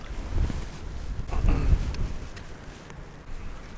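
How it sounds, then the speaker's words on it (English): Wind buffets the microphone in rough, swelling gusts on a frozen lake, a low roar that rises and falls with no voices. "It wasn't windy like this when we got here, was it?"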